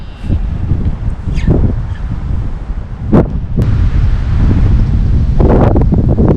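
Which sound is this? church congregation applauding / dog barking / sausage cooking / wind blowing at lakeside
wind blowing at lakeside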